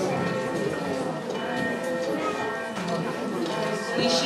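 Church bell ringing in a Czech village setting, tolling steadily under a dense bed of sound, with music or ambience layered throughout.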